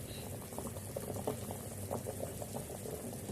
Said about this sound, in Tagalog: Kumukulo-kulo talaga yan siya.